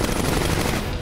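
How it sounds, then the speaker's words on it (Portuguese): Automatic gunfire in the Iron Man 2 video game on PS3, a dense rapid burst of shots filling a single second, loud and close with no talk over it. "O Tony Stark aqui botava um tiro pra cada bicho desse aqui no automático."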